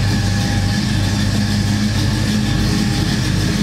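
A 1972 Oldsmobile Cutlass 442 engine runs steadily close by, giving a loud, continuous low rumble with no talk.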